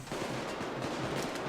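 Rapid gunfire from weapons in the video game Payday 2, a dense continuous volley of shots that fills the short moment without pause, loud and alone with no talk over it.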